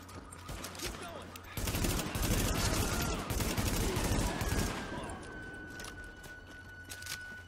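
Sustained gunfire from Tom Clancy's The Division, a dense burst of automatic shots running for a few seconds with faint speech mixed in, then easing into a quieter tail with a thin ringing tone.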